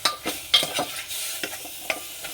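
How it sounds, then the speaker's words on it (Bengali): Chicken being stirred and fried in a pressure cooker pot, with quick repeated scraping strokes of a spoon over a bright sizzle, close and loud, in short rhythmic bursts without speech. "কিন্তু চিকেনটা একটু বেশ নাড়াচাড়া করে ভেজে নিতে হবে।"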